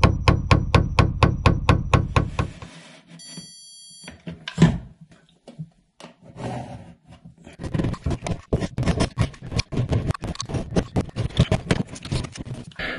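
Hammer blows drive a metal nail plate over electrical wires in a wall during an outlet installation, a fast, even run of sharp strikes at first, then scattered knocks and a later quicker burst of taps, close and loud with no talk.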